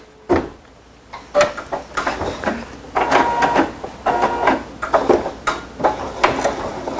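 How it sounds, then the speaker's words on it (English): A fast triple stitch sewn by an embroidery machine working on a posies design, with a steady series of rhythmic mechanical bursts and clatter, fairly loud and close, with no talking. "So this is going to be a really fast triple stitch here."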